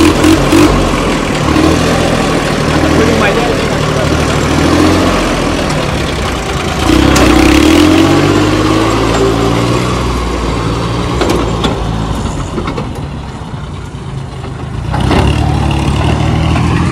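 A tractor engine idles at low speed, a steady mid-pitched rumble running throughout with a brief rise near the middle, while a voice speaks a few words.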